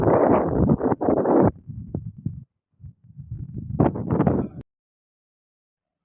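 Strong wind at a beach buffets the microphone in loud, rumbling gusts that come in uneven bursts, drop briefly, return, and then cut out abruptly into near silence.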